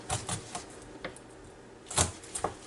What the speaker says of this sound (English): Cut off the tips of the wings.